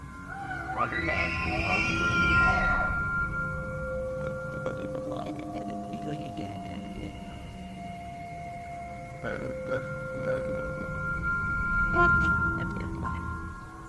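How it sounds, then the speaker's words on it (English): A bull elk calls in a forest with a high, whistling squeal that rises and falls, then gives several long, drawn-out tonal moans. The calls are moderately loud over a low background rumble. "Having listened to some bull elk calls, I have to agree"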